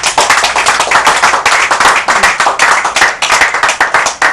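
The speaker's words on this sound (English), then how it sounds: "Give a clap offering." A church congregation claps loudly and energetically as an offering. Many hands strike in a fast, dense, roughly rhythmic stream, close and sustained throughout, with no talking.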